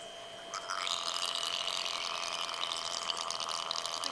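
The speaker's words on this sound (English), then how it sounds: "We call that one a click." A beluga whale makes underwater sounds, a steady bubbly, gurgling rush with a thin constant tone, starting after a half-second pause and continuing close and fairly loud.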